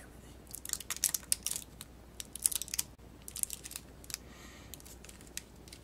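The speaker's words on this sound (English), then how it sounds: "we gotta unwrap it and everything" Reese's Ultimate Peanut Butter Lovers candy packaging being unwrapped up close, a series of sharp crinkling and tearing bursts of plastic wrapper, irregular and fairly quiet, with short pauses between.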